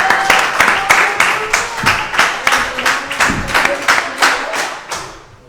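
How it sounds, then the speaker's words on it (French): Applause for a guest, a French motorcycle speed champion, at a club event: a crowd claps continuously for several seconds, loud and close, with occasional voices calling out over it. "Allez, Alexandre, on applaudit Alexandre, s'il vous plaît."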